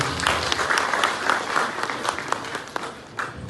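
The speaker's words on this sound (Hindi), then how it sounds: "प्रिया जी के ताली बजाइए भैया।" Audience applause at a women's empowerment award event, a brisk burst of dense clapping from a crowd, fairly close and steady, fading slightly near the end.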